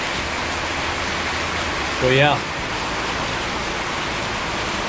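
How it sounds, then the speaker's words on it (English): Rain falls outdoors on a farm in Thailand as a constant, broad hiss of droplets, with a brief spoken remark near the middle cutting through the downpour. "It's raining on my wood over there."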